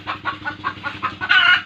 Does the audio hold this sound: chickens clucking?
yes